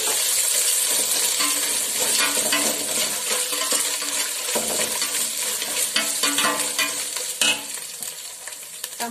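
Ginger garlic paste sizzles in a pan with browned onions while cooking mutton dum biryani, a loud, steady frying hiss with the scrape and clink of a spoon stirring throughout, close up and without talk.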